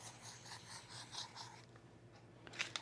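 Scissors or a blade trimming excess from a paper sewing pattern for a men's utility jacket, a soft repeated rasping of cuts in a steady rhythm, close and quiet, with no talking.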